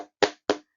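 Hand claps for the tepuk al-maun chant, a children's clapping routine for learning Surah Al-Ma'un: two sharp, close claps about a quarter second apart, with the tail of an earlier clap just before.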